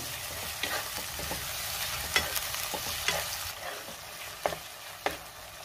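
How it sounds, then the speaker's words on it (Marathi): Yogurt sautéed and stirred in a pan on a low flame while cooking a biryani-style dish, with a steady soft sizzle and several sharp scraping clicks of the spoon against the pan. "दही सुद्धा मी परतून घेतलेला आहे"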